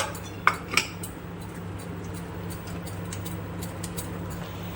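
A spoon knocks twice against a pot as palm pulp is added to rabri, two sharp metallic clinks close together over a low steady hum.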